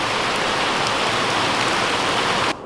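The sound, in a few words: rain falling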